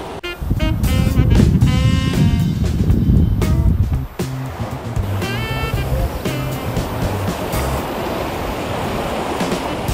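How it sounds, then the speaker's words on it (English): Surf rolls in on Ulua Beach in Wailea, Maui, a loud, continuous wash of breaking waves with wind noise, while nearby voices and shouts of beachgoers rise over it in the first few seconds. "This is a really nice beach. Ulua Beach."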